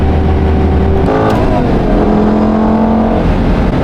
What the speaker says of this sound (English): Oh, the sound of a V10 engine screaming behind your ears.